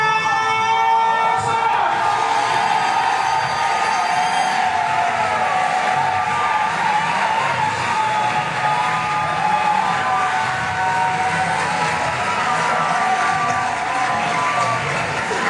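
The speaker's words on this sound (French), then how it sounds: "Nous allons faire un paquet d'applaudissements, un paquet d'acclamations pour recevoir Madame Dorcas." Wedding guests at a civil and customary wedding cheer, shout and applaud for the bride Dorcas, a loud, sustained crowd roar with steady clapping and excited voices lasting throughout.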